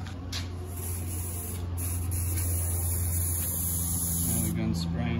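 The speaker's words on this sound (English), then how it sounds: "do a little test spray." A steady, loud spray gun hiss test-spraying gelcoat runs continuously for several seconds, broadband and unbroken, with a faint voice mixed in underneath.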